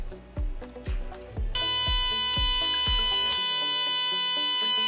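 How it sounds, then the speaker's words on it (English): Fire alarm control panel buzzer sounds after the panel restarts: a steady, piercing electronic tone switches on partway through and holds loud to the end, following a few soft thumps and clicks. "after it's restarted, you will see the mains supply LED turning on and the debug LED will turn on for a while and we will hear a beeping"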